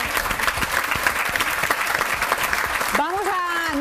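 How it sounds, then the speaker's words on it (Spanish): A theatre audience at a televised song-contest show applauds the jury, sustained clapping under a presenter's voice before it fades and a voice continues alone. "querido Pepe, un aplauso para nuestro jurado"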